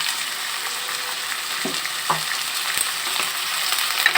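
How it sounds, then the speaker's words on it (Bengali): Broken rice fries with diced potato and green chili in a pan, giving a continuous bright sizzle with a few soft knocks of stirring, close and even throughout without any talk. "খুদের চালগুলোকে ভালোভাবে ভেজে নিয়েছি"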